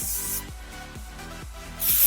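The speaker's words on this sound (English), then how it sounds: "I'm just gonna spray some hairspray in it" Two short bursts of hairspray being sprayed onto hair, one at the start and one at the end, with quiet rustling in between and no talking.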